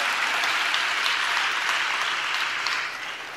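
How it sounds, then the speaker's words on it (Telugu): A church congregation claps steadily in praise, dense sustained applause filling the room and tapering slightly at the end. "చప్పట్లు కొడుతూ స్తోత్రాలు చెప్దాం."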